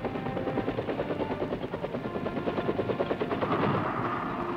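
A UH-1 utility helicopter flies past with steady rotor blade chop, a loud rapid thumping pulse that holds for several seconds alone.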